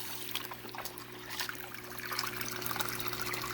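Water shooting straight down from the inflow hose of a SunSun 304B canister filter on a native fish tank, a steady close splashing and pouring under a constant low hum, growing slightly louder, with no talk.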